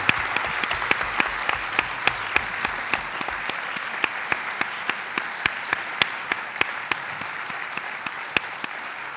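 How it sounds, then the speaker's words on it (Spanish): An audience at a forensic anthropology and human rights lecture applauds steadily, a sustained wash of clapping with sharp individual claps standing out near the microphone throughout. "Eu quixera despedir a mesa con un fortísimo aplauso tamén de agradecemento por todo o que faz"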